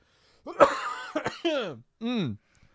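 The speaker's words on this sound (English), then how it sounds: "Before I absolutely destroy myself by coughing." A man coughs and clears his throat in a short burst of harsh, voiced hacks near the microphone, with brief strained vocal sounds between them during a podcast recording.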